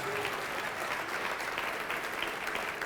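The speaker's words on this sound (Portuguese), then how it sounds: "Vamos aplaudir mais ao nome de Jesus" A church congregation applauds, a dense, steady clapping from a crowd that stays fairly close and even for a few seconds with no one speaking over it.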